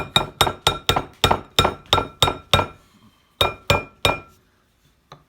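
Peanut butter cookie dough being mixed in a bowl produces a run of bright, regular clinks as the utensil strikes the bowl's side, about three per second, then a short pause and a few more strokes, loud and close.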